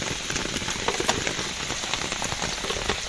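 Heavy rain pours at night during crab catching, a dense, loud, continuous patter of drops hitting surfaces close by, with no talking.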